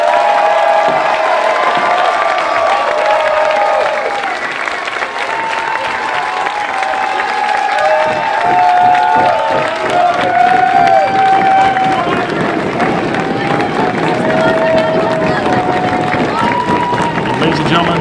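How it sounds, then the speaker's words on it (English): Wrestling crowd applauding and cheering in an arena, a loud continuous roar of clapping and shouting that runs the whole length, with babble of voices mixed in. "give this man the biggest round of applause you ever gave me"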